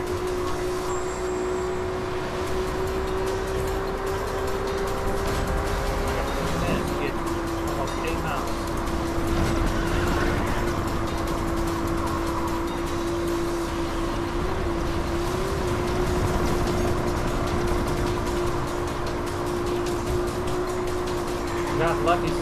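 Car engines drone steadily in the Need for Speed racing game, a constant motor hum running throughout with a slight pitch shift partway, while a person talks over it.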